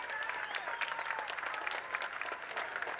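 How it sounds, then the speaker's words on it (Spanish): Faint, distant applause from a street crowd greets a parade float carrying a children's folkloric dance group at a 1982 September 16 celebration in San Jose, a thin steady patter of clapping. "Un aplauso cariñoso para ellos."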